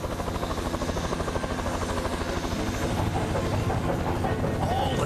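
Helicopter rotor noise from an animated children's film about a little helicopter flying over an aqueduct, a loud steady chopping drone with rapid regular blade thumps throughout.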